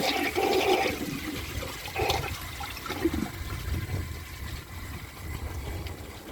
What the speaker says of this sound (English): let's see if it can flush a dish towel